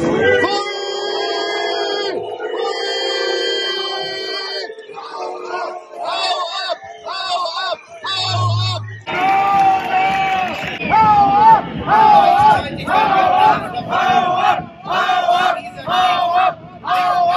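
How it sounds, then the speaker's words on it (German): Crowd at an SPD campaign launch in Dresden booing and jeering a politician, a loud sustained mass of shouting voices that swells and persists, with chanting-like rhythm and amplified speech over the top. "Wir haben exklusive Videoaufnahmen, dass er während seiner gesamten Redezeit durchgehend ausgebuht worden ist"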